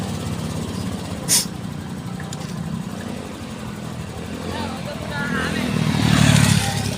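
A motorcycle engine runs steadily nearby with a low rumbling idle that swells slightly toward the end, a sharp click near the start, and people talking over it.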